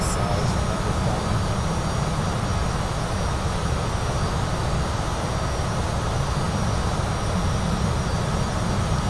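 Citation CJ4 business jet taking off in Microsoft Flight Simulator 2020, a steady loud jet engine roar that holds unbroken and even throughout.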